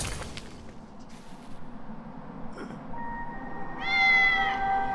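A kitten meows in the Batman: Arkham City video game, one brief cry near the end rising out of a low ambient game background with scattered soft clicks and hums.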